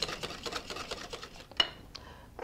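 Quick, faint rhythmic clicks of a whisk stirring ketchup into mayonnaise for cocktail sauce in a bowl, close by, with a few softer taps near the end.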